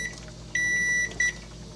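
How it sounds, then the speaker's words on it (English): Kitchen timer going off during pressure canning of meatless chili: a long, steady electronic beep followed by a shorter second beep, clear and moderately loud over a faint background hum. "Timer has gone off."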